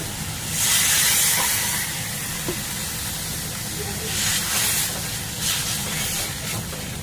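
Water poured into a hot pan of spiced fish curry masala hisses and steams loudly in surges, a broad close sizzle that rises and falls over several seconds.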